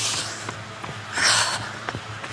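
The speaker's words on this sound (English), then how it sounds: "let's go take a nice deep breath." A runner draws in a long deep breath and lets it out with a hushed rush of air, close and fairly loud over faint background noise.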